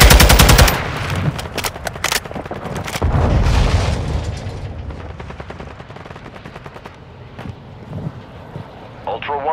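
Heavy gunfire in Call of Duty Modern Warfare II DMZ: rapid automatic bursts and loud booming shots, dense at first and then thinning into scattered reports, with voices shouting over the firefight.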